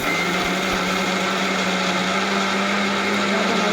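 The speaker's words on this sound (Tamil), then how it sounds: "இதெல்லாம் சேர்த்து உப்பு சிறிதளவு தேவைக்கேற்ப எல்லாத்தையும் போட்டு மிக்சியில் அரைக்கணும்." A mixer grinder grinds horse gram chutney ingredients with tamarind and salt, a loud, steady whirring drone that runs unbroken throughout with no talk.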